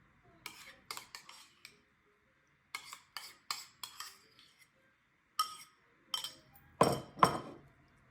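A spoon or fork clinks against a dish while a protein salad is mixed with sauce, giving irregular bursts of scraping and tapping with short pauses, close and fairly quiet, ending in a few louder knocks.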